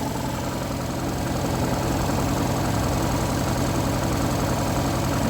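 A 1.5-litre 16-valve car engine idles with a steady, even rumble that holds unchanged throughout, with no voices.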